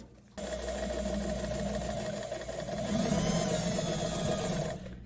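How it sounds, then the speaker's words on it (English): A sewing machine runs a straight stitch down a seam of wide-leg pants, with a steady, close mechanical whir that starts abruptly, holds for about four seconds and cuts off near the end. "I'm going to use a straight stitch down the whole seam"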